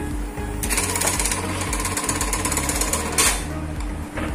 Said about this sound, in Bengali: দেখুন, আমাদের এই মেশিনটিতে বর্তমানে সেলাই হচ্ছে কোথা থেকে।